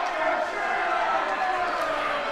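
A wrestling crowd at an East Coast Pro Wrestling event in Sydney Mines jeers wrestler Mike Hughes, a steady, dense murmur of many voices filling the hall at moderate loudness without a break.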